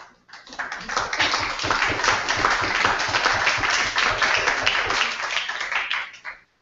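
An audience gives sustained, dense applause at the close of a conference talk, the clapping rising quickly, holding steady for several seconds, then fading out.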